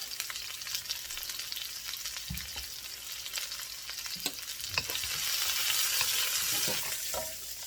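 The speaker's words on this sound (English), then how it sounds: "just throw in a few onion, let them cook down" Onions frying in oil for a simple chicken biryani, with ginger and garlic added, make a steady, dense sizzle throughout. A few soft knocks and stirring scrapes sound over it, and the sizzle swells louder in the second half.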